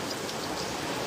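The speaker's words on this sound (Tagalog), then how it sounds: "Ang lakas ng ulan dito." Steady, dense rainfall hisses continuously, a heavy downpour with no other sounds.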